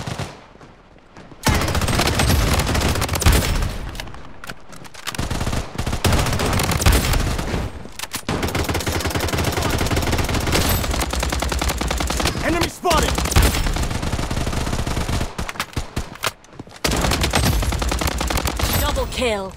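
Sustained automatic gunfire from the shooter game Bloodstrike, loud and nearly continuous with rapid bursts and brief pauses, mixed with game effects and occasional voice callouts.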